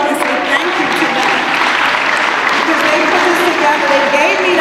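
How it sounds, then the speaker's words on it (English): Steady, dense applause from a large conference audience at a real estate event, continuous and even throughout with no voices rising above it. "let's just give them a round of applause real quick and say thank you to them"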